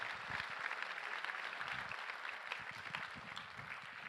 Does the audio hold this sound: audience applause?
yes